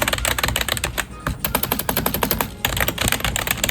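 Fast, clattering keystrokes rattle in a loud, close-up burst, with one brief pause partway through.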